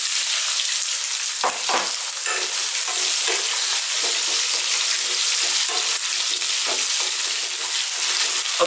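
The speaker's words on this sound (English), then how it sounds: "Then we're going to add our potatoes, our raw potatoes, and just cook those for about 2 to 3 minutes." Raw potato pieces frying in a hot pan for a curry, a constant loud sizzle with occasional stirring scrapes on top, no one speaking.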